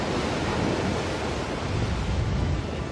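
Strong sea waves surge around a tugboat that has tipped over and is sinking. The roar is dense, loud and continuous, with no talk.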